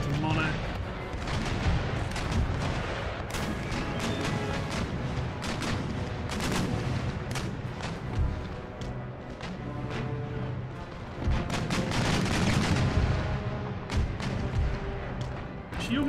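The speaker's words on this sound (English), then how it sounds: "you're gonna pump some shots into Monarch as well" Naval cannon broadsides fire between sailing warships in the game Empire Total War. Booming shots come repeatedly and irregularly over a steady battle din, some close and heavy, others overlapping in volleys.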